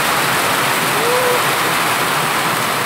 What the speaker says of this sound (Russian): Смотрите, какой ливень. Как шумит, ужас.